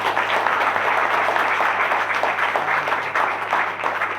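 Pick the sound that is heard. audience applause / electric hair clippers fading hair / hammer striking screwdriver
audience applause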